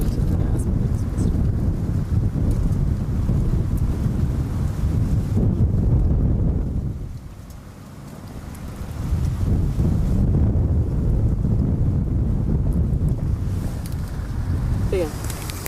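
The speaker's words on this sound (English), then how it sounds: "Let's wait for the wind." Strong gusts of wind buffet the microphone outdoors, a loud low rumble that dips briefly midway before surging back, with no talk over it.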